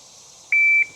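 A single sharp electronic shot-timer beep, short and steady, starts a draw-and-fire drill with a Smith & Wesson M&P Bodyguard 2.0 pocket pistol; no gunshot follows within the moment, only quiet background.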